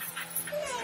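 A dog gives a brief, soft whimper, a thin high whine over faint background noise, fairly near and quiet.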